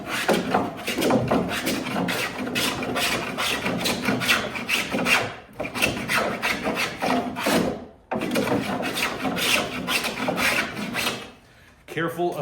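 A fairing board is dragged across a wood surface, sanding it in a steady run of loud, rhythmic rasping strokes with a couple of brief pauses.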